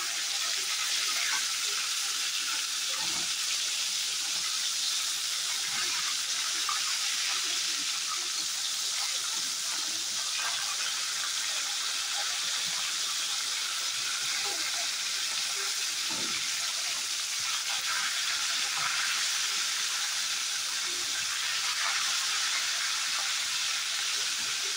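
Fish heads fry in hot oil in a pan, giving a steady, close hiss of sizzling that carries on with small crackles and spits throughout.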